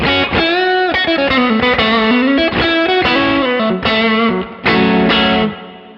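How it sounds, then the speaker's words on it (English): Electric guitar through a Bluesbreaker overdrive in the Neural DSP Archetype: John Mayer plugin, playing a bluesy riff with warm, mildly crunchy distortion, steady and loud with no voices. "Blues breaker."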